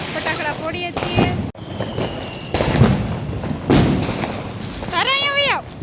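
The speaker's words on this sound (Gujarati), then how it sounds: "તો અમે ફટાકડા ફોડવાનું શરૂ કરી દીધું છે." Diwali firecrackers go off in several sharp, loud bangs spaced a second or so apart at close range, mixed with excited voices of people talking and shouting around them.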